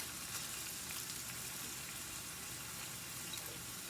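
Food browning in a pan for homemade spaghetti, a steady, quiet sizzle and crackle of frying that continues evenly throughout with no talking.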